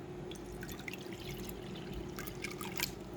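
Water poured into a pet snake's water bowl, a soft continuous liquid trickle with a few drips and splashes, close and fairly quiet, no voices.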